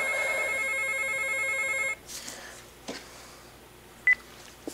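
Landline telephone ringing with a bright electronic warble for about two seconds before stopping, followed by faint handling clicks and a short beep in a quiet room.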